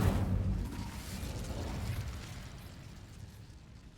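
Incendio fire spell cast in the Hogwarts Legacy video game: a loud, boomy burst of flame that erupts at the start, then rolls on as a broad whooshing roar and slowly fades, with no talk.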